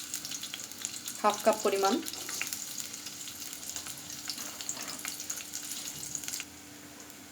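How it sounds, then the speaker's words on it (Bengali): Onions fry in a cup of hot oil for beef tehari, with a steady soft sizzle and hiss throughout; a voice speaks briefly early on over the frying. "তেলটা যখন একটু গরম হবে আমি দিয়ে দিব এখানে পেঁয়াজ"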